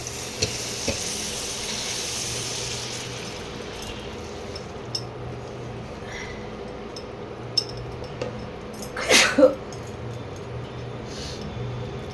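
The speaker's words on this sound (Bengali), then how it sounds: "এবারে জল দিয়ে দিচ্ছি।" Water poured into a pan of sizzling curry spiced with garam masala, for an egg and lentil-dumpling curry; a steady fry-hiss runs throughout, with a brief louder splash and surge near the end and a few light clinks.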